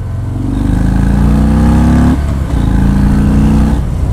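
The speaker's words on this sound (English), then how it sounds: "if you want Thor, just rev it up." A 2019 Harley-Davidson FXDR 114 motorcycle engine revs hard and loud, with two long rising pulls separated by a brief dip, its deep rumble steady and close throughout.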